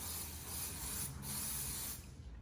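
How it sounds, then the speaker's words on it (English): Joico bond builder sprayed from a can onto sectioned hair, a steady close hiss running throughout with a brief dip near the middle before ending. "Take medium, smaller sections, make sure that you get all the hair saturated, and then spray pointing down."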